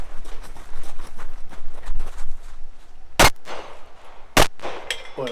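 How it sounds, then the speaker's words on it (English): Gunfire rings out at a team shooting match, with scattered distant pops followed by two loud, sharp close shots striking steel targets, each leaving a brief metallic ring. "But I'm shooting good here, getting the steel down quickly."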